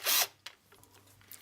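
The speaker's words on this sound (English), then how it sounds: "Absolutely fantastic countersinking bit." Power drill with a countersinking bit cutting into wood in one loud, brief high-pitched burst, then a few fainter scraping clicks.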